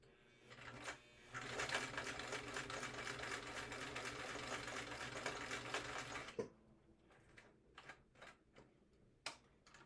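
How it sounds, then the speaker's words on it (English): A vintage Viking sewing machine stitches vinyl in a fast, clanky, rhythmic burst for several seconds, then stops, leaving scattered ticks and clicks. "This is my vintage Viking, so it's going to be kind of loud and clanky."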